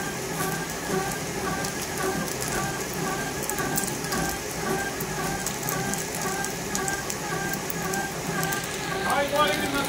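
A batasa sugar-candy making machine runs with a steady, dense rattling clatter and a continuous mechanical whir, and a voice talks over it.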